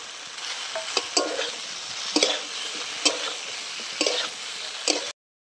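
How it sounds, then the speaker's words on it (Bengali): Fried prawns stirred into spiced jackfruit curry in a pan: a continuous sizzle broken by periodic spatula scrapes against the pan, close up, with no voices. "কিছুক্ষণ খুব ভালো করে কষিয়ে নিয়েছি"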